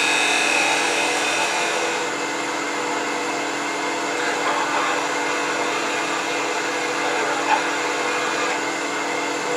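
Wood lathe spinning while a coffee scoop is turned down with a gouge, a steady loud broadband whir and hiss running throughout without talk, with a faint tick near the end.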